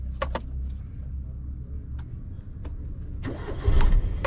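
A car engine being started with the key during a driving lesson, clutch pressed: keys jingle at first, then the starter cranks and the engine catches near the end, running loud and close with no talk.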